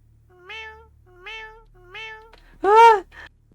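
A cat in the horror video game Goodnight Me (VHS Collection) meows three times, evenly spaced and moderately loud, then lets out a louder, drawn-out cry followed by a short trailing note.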